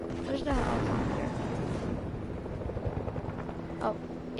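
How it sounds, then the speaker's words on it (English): Helicopter in the Fortnite video game, a whirring rotor drone that surges early then fades, with game effects and a brief sharp sound near the end. "Where's the helicopter?"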